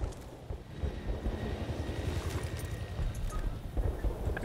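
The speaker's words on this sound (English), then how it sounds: "Be advised, enemy helo in the area." An enemy helicopter flies nearby in a combat video game, a low, rapid rotor thump that pulses steadily, moderately loud, with occasional sharp clicks and distant game noises over it.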